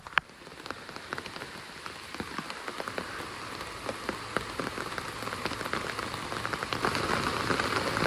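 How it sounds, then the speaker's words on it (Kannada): Steady rain falls on surfaces outdoors in a continuous, fairly soft patter with scattered louder drops. The sound builds gradually over eight seconds, and no one speaks. "ಈಗ ಮಳೆ ಬಂತು ಗೈಸ್, ಮಳೆ ಬಂತು"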